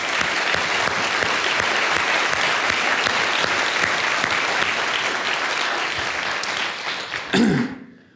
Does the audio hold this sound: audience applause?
yes